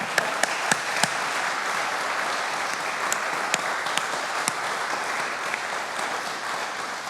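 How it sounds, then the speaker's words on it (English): Audience applause at a Broadway, opera and American songbook concert, a steady clatter of many hands clapping with sharp individual claps standing out, loud and sustained for about seven seconds with no talking. "if you'd please join me in giving them a round of applause"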